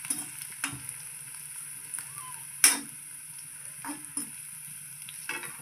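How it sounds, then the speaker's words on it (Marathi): Onions sautéing in a pan while being stirred, a quiet steady sizzle broken by several sharp scrapes and clinks of a spoon against the pan, close by and without talk. "आता हा छान गुलाबी रंगावर परतून घेऊया आणि मग त्यात कांदा घालूया"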